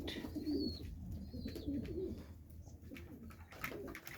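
Low, rolling pigeon coos repeat in short bursts, a few birds close by, with soft background rustling.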